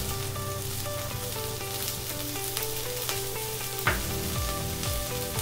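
Chopped onion frying in a hot Dutch oven for braised ox cheek, a loud continuous sizzle with a single sharp clunk of a utensil partway through.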